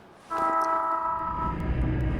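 A train in a video game rolls by with a loud, steady horn blast that begins abruptly and holds for over a second. A low rumble of rolling wheels continues beneath it, with no talking.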